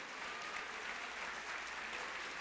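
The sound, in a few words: church congregation applauding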